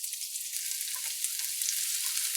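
Hot oil in a pan sizzling with a bright, steady, close hiss and faint crackles throughout, heard alone with no voices.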